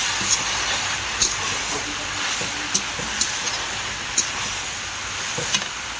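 Fiddlehead ferns and elephant apple fry in a pan with a continuous, even sizzling hiss. Small crackles and pops break through the hiss now and then.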